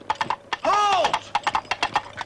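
Coconut halves knocked together mimic a horse's trotting hooves in quick, even clip-clops, broken by a short shouted voice in the middle.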